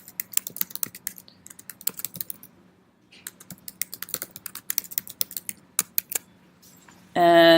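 Fast, irregular keyboard typing in bursts of clicks, close and fairly quiet, pausing briefly midway before a short burst of a louder tonal sound at the very end.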